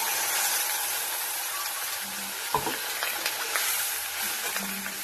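Cumin powder, turmeric and other spices fry in a pan with a steady close sizzle, broken by a few scraping stirs.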